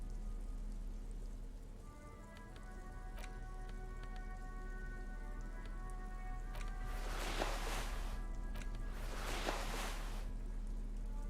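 Steady rain falling in the video game Disco Elysium, a soft continuous patter under a low ambient hum, with two louder swells of rushing rain near the end.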